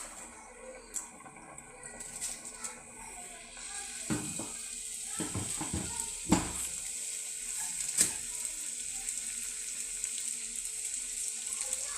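Neyyappam frying in hot oil gives off a steady, quiet sizzle, with a few brief metallic clinks and scrapes partway through.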